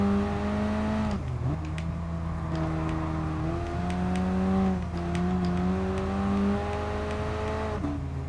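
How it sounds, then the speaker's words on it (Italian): Racing car engine in Gran Turismo Sport while drifting: a loud, steady, high-revving drone with pitch dips and climbs as the car slides, near and alone. "Guardate come si intraversa la macchina."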